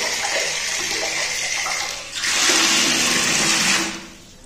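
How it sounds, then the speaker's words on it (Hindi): Tap water gushing into a drum at home in India, a steady hissing rush that swells louder midway as the flow strengthens, then drops off sharply near the end; no talking. "पानी आना चालू हो गया है"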